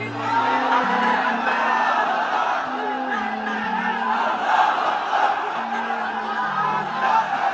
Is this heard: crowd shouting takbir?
yes